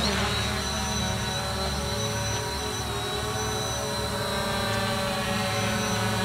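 Fimi X8 SE drone taking off on auto takeoff, a steady, loud whirring whine of propellers holding level throughout with no voices.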